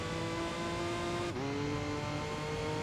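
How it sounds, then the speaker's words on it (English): Distant McLaren race car engine from the Enthusia Professional Racing video game, a steady droning hum that dips in pitch partway through, faint and continuous with no talk. "I like how you just faintly hear the McLaren going through the backwoods"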